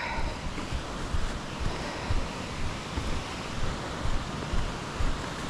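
Rushing water from a powerful outdoor stream or falls in Central Oregon, heard as a loud, continuous broadband roar with gentle surges and a bit of wind on the microphone.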